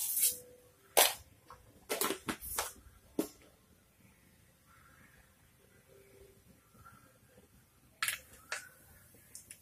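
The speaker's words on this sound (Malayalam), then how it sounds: "എണ്ണ ചൂടായാൽ നമുക്ക് കടുക് ഇട്ട് കൊടുക്കാം" Mustard seeds hit hot coconut oil in a pan while squid thoran is being cooked. Sharp, crackling pops come in scattered bursts near the start and again toward the end, with a quieter sizzle between them.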